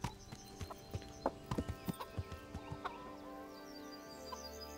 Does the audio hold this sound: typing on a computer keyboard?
no